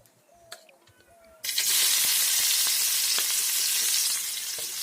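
Onion and green chili hit hot oil with a sudden loud burst of sizzling after a quiet start of light kitchen clinks, then a dense steady fry that eases slightly toward the end, with no talking.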